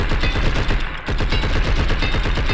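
Rapid, dense gunfire in the video game Blood and Bacon, a continuous loud stream of shots with a brief dip partway through, close and alone without talk.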